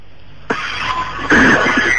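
A person coughs twice on a phone line during a prank call, one sharp burst followed by a longer, rougher cough, close and fairly loud with no talk.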